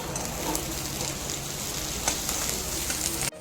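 Grated ginger, chopped onion, garlic and green chilli fry in a pan for a dhaba-style egg tadka, giving a steady, close, dense sizzle throughout that cuts off abruptly at the end.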